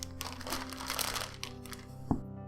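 Plastic bag crinkling and rustling steadily up close as cookie dough for Viennese whirls is pushed in, ending with a sharper crackle.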